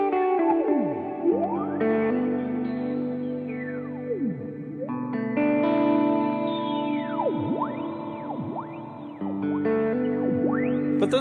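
Alexander Pedals Rewind programmable echo pedal with both depth settings maxed, producing wild modulated delay: sustained layered tones with swooping pitch-bending repeats and sweeping echoes, loud and continuous with no talking.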